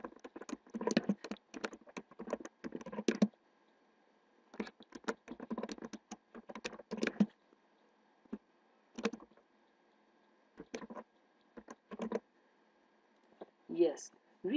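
Bursts of rapid keyboard typing on a computer while entering text in Microsoft Excel 2007, close and crisp, coming in clusters separated by short pauses, with a few louder clicks near the end.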